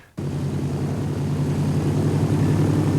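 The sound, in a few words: planes taking off from a runway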